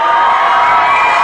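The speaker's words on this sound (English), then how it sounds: "You can hear the fans in the background." Crowd noise from fans at a Riverdale High School varsity football game, Riverdale Raiders against Gulf Coast Sharks, a steady dense roar of cheering and shouting voices that fills the night stadium, loud and continuous throughout.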